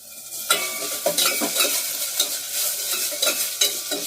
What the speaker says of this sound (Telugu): కొద్దిగా అల్లం వెల్లుల్లి గరం మసాలా అన్ని కలిపి నూరుకున్నది మాట ఇది ఇది వేసుకుని ఒకసారి వేయించుకోవాలి